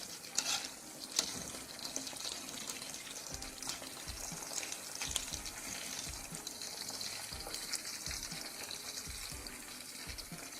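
Lahori charga chicken fries in hot oil after about ten to fifteen minutes, a soft steady sizzle and bubbling with occasional stirring clinks, fairly quiet and close, no voices.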